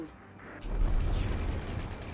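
A flak cannon fires in a space combat video game, a quiet lead-in giving way to a heavy, booming burst of rapid blasts that rumbles on and slowly fades.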